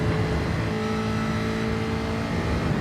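Race cars roaring down the straight at Suzuka in a racing simulator, a loud, steady engine drone at high revs that holds throughout with no voices.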